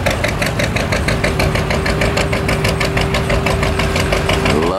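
An antique John Deere tractor engine runs close by at a tractor pull, its loud, rhythmic two-cylinder popping chugging steadily throughout.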